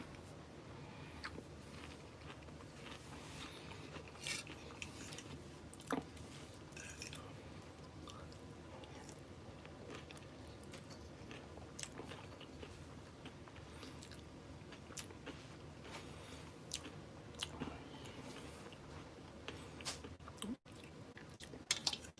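Someone eating salad close to the microphone, with soft repeated bites, crunches and wet squishy chewing spread irregularly through a quiet room, and no talking.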